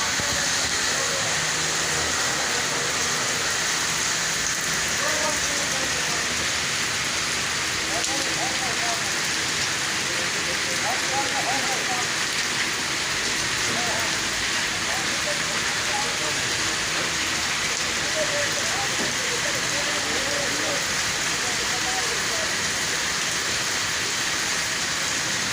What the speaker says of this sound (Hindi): और बारिश इधर पै रही है